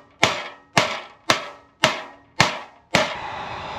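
Six sharp hammer blows strike at a steady pace, each ringing briefly before the next, close and loud.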